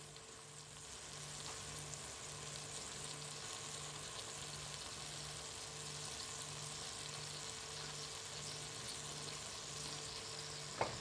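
Meat for traditional kebab fries in a pan with a steady, faint sizzle and hiss, continuous and even throughout, plus a low hum and one small clink near the end.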